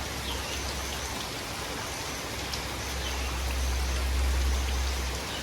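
Steady heavy rain pouring down in Thailand, a dense continuous hiss with a low rumble underneath that swells slightly toward the end.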